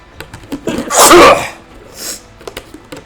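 One loud, close human sneeze cuts through quiet background, preceded and followed by a few faint clicks.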